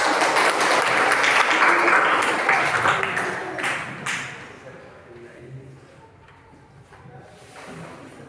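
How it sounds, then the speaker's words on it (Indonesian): A classroom full of students claps together during a teaching-strategy lesson. The dense, loud applause lasts several seconds, then fades into quieter room noise with faint voices. "Tepuk tangan dulu ya."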